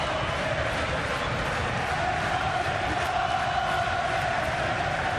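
A boxing arena crowd at Nathan Cleverly versus Karo Murat roars in a dense, unbroken wall of cheering that holds level throughout, with no clear single voices standing out.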